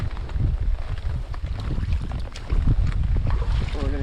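Heavy rain pours steadily outdoors, a dense continuous wash with low wind-like rumble throughout, close and loud, with a faint distant tonal sound near the end.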